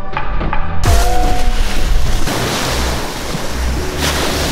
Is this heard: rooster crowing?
no